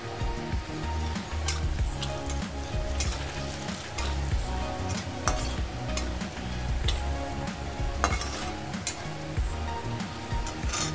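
Garlic frying in a pan with salt and turmeric being stirred in, a dense continuous sizzle with scattered crackles and scraping stirs throughout, close and fairly loud.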